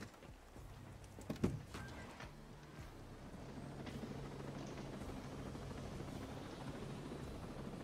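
Helicopter in the Ghost Recon Breakpoint video game, a steady low rotor drone and engine rumble holding throughout, with one sharp thump early on, no talking.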